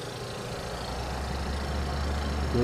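A refrigeration system compressor starts up in a steady low hum that swells slightly toward the end, a close, continuous drone with no talking.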